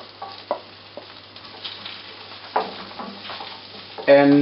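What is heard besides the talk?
chopped garlic and onions frying in butter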